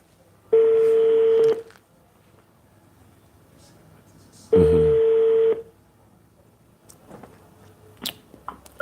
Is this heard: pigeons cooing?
no